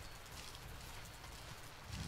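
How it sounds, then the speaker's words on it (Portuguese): Rain falls with distant thunder in the survival video game Surviving Titan, a faint, steady hiss of rainfall running throughout with a low rumble swelling near the end. "Eita, que trovoadas. Chovendo."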